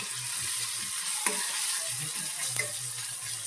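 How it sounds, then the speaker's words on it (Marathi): Ginger, garlic and a pinch of asafoetida sauté in a pan for sprouted matki bhaji, a close, even sizzle broken by a couple of sharp spatula clicks and scrapes. "आता यामध्ये आपण 1 पिंच हिंग घालून घ्यायचं आहे आणि परतून घ्यायचंय"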